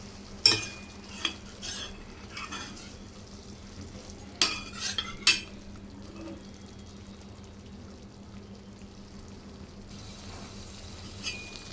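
Mutton curry masala frying in oil on a low flame, a quiet steady sizzle with a few sharp clinks of a spoon stirring against the pan early on, then a soft continuous crackle.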